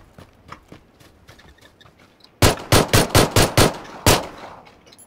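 Rapid gunfire bursts ring out, about seven sharp shots in quick succession, loud and close, after a stretch of faint clicks and taps, in the video game PUBG: Battlegrounds.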